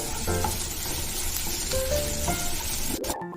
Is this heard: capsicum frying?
yes